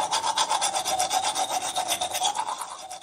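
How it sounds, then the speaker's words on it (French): A toothbrush scrubs back and forth across teeth in rapid, steady rhythmic strokes, close and fairly loud, alone for about three seconds. "c'est le bruit qu'on fait quand on se brosse les dents."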